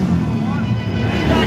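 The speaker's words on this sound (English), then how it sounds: "Is this BMW running or what? It's a diesel." A turbo diesel BMW car engine rumbles at a dragstrip, loud and close, amid crowd chatter and voices in the background.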